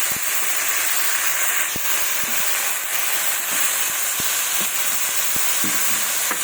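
Water hits fish and cauliflower curry in a hot pan, setting off a steady, loud broadband sizzle and hiss that runs without a break. Scattered soft knocks and stirring clicks sit under it, and no one speaks.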